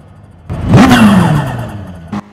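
A Mitsubishi Lancer Evo in the racing game GT Sport gives a brief, swelling turbo whoosh with a fluttering whir that fades out, ending in a short sharp burst of turbo chatter.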